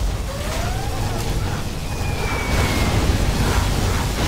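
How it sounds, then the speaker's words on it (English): A particle cannon fires in the real-time strategy game Command & Conquer Generals Zero Hour, a steady roaring energy blast with a rising whine that swells louder toward the end, heard alone without voices. "Particle cannon activated."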